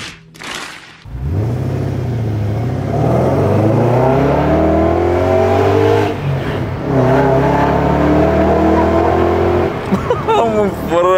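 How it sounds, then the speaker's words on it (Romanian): A BMW 7 Series V8 with a new modified exhaust revs loudly and steadily, with a deep throaty drone that rises and falls after a brief pause. Voices talk over it near the end. "Suna V8 de americani acum."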